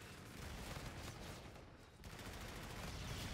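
Dense, continuous gunfire from a first-person shooter video game, a loud sustained volley of rapid shots with a brief dip in intensity midway before it surges again.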